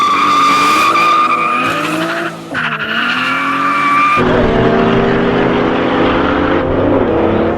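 A 2JZ-powered Nissan 200SX race car skids with loud, sustained tire squeal and a roaring engine, the pitch sliding and wavering across the run before settling into a harsher continuous screech.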